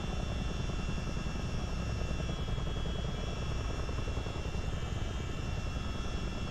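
Cockpit noise from a CH-47D Chinook helicopter in the Miltech Simulations game, a loud, unbroken drone of engine and rotors with a steady buzzing whine, close and constant throughout, with no speech.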